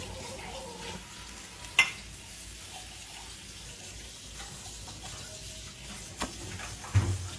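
Pea-filled kachori frying in a kadai of hot oil gives a faint, steady sizzle with a few soft clinks and scrapes, and no talk.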